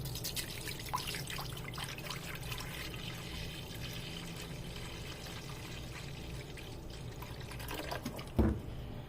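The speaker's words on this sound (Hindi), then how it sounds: "तो इसमें डालेंगे पानी।" Water poured into a pot to boil about 300 grams of boneless chicken, a steady soft trickle and splash running throughout, close by, with a brief louder clunk near the end.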